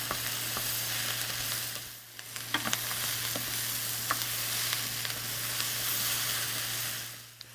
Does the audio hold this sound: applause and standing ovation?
no